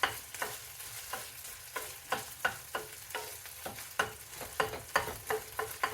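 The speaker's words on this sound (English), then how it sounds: "We're going to let the sausage gravy kind of warm up" Sausage gravy warming in a pan, stirred with repeated scraping strokes in a steady rhythm over a soft sizzle, close and moderately quiet with no talking.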